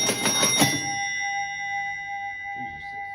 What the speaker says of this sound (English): that big bell was a bit loud